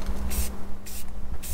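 A spray paint can lays a thin coat onto plastic in three short hissing bursts, each under a quarter second, with quiet gaps and a low background hum between them.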